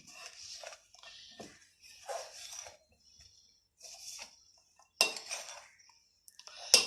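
Vegetable pakora batter stirred in a bowl with a metal spoon: close, bright clinks and scrapes in uneven bursts, separated by short pauses, with no talking.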